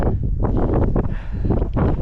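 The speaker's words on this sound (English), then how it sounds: "It's quite windy already" Wind gusting across the exposed Mission Peak summit in the California Bay Area, a steady loud roar buffeting the microphone with surging swells, no voices.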